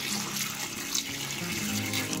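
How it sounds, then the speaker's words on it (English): Water pouring steadily from a tap into a cooking pot, a continuous close splashing rush with no talking. "Add some water."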